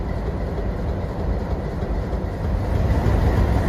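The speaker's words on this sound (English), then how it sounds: "This is an ex-BC Rail locomotive, and back before that, Pacific Great Eastern." An ex-BC Rail locomotive, formerly Pacific Great Eastern, at Steamtown in Scranton, heard as a loud, steady, low rumble that swells slightly toward the end, with no voices.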